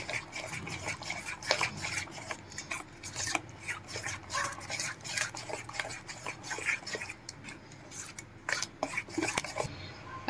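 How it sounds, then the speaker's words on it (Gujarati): A spoon scrapes and stirs dhokla batter with Eno in a bowl, giving irregular close rasping strokes and soft clinks that come in quick bursts with short pauses. "બધું બરાબર મિક્સ કરી લેશું।"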